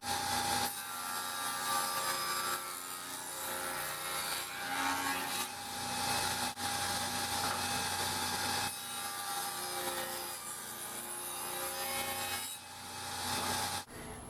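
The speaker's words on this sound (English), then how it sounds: "I've put a blade in that'll cut a 1/8 inch kerf" Table saw fitted with a blade cutting a 1/8 inch kerf spline groove in wood, a sustained whining motor drone with a steady tone and rasping cut noise, rising and falling in bursts over several passes.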